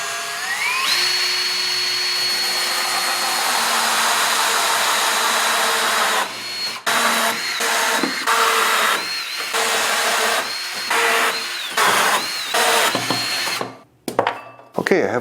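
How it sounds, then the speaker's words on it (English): Power drill boring holes into the back of a workbench: a long high whine winding up and down, then a series of short bursts with pauses between them, loud and close. "I have all my holes drilled in the back"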